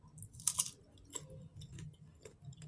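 Close, wet chewing and a couple of crisp bites while eating a dip made with chili and onion leaves, soft irregular mouth sounds over a low background hum.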